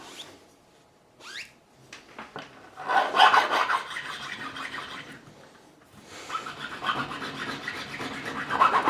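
A profiling file crowns the frets of a 2007 Fender Stratocaster during a re-fret, giving rasping metal-on-metal strokes in two main bursts, close and moderately loud, with a few short scrapes first.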